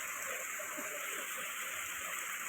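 Heavy rain falling outside, a dense continuous hiss of downpour, steady and loud throughout with no voices.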